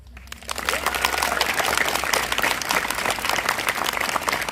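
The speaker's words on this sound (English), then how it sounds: "A round of applause for our amazing student speakers" Sustained applause from an audience at a school moving-on ceremony, honoring student speakers; dense, steady clapping fills the whole stretch without speech.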